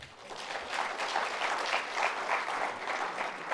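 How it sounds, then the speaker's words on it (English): Festival audience at an inaugural address breaks into steady, sustained applause, a dense wash of many hands clapping from a large crowd that carries evenly through the moment. "So a big round of applause for all of yourself."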